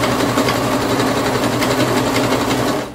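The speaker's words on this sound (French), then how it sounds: "Alors, je vais coudre jusque là." A sewing machine stitches a ponytail hairpiece made of dark and lighter brown strands in a fast, steady mechanical whir. It is loud and close, with no voices, and stops just before the end.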